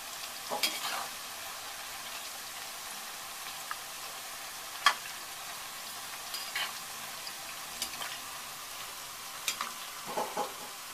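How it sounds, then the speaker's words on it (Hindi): Namak pare frying in oil over a medium gas flame: a steady, soft sizzle with faint crackles and a few sharper pops, fairly quiet and continuous with no talking. "देख रहे हो मैंने गैस की फ्लेम मीडियम कर दी है और ये फ्राई हो रहे हैं।"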